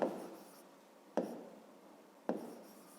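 A pen scratches across paper while working a fifth-grade math exercise: three short, soft strokes at roughly even intervals, close and quiet.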